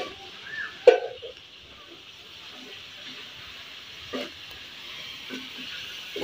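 Tomatoes and chilies fry in garlic paste in a home kitchen pan with a soft, steady sizzle, broken by a few sharp stirring knocks and scrapes of a utensil.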